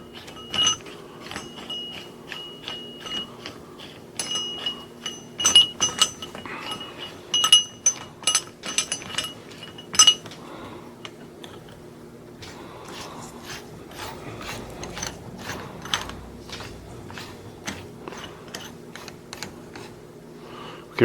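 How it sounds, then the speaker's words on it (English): Metal adjustment collar threaded up the body of a new coilover spring on a Factory Five Racing Mk4, giving light, irregular clinks and ratcheting scrapes close by, spaced through the clip with quieter rubbing between. "I'm just going to start slowly bringing the adjustment collar up until it gets to the bottom of the"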